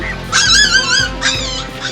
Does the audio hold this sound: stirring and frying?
no